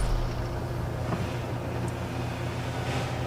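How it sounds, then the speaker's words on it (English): A video game car engine drones steadily and low throughout, a continuous rumble with a faint windy wash above it and no talking. "I think M5 can hear that car now."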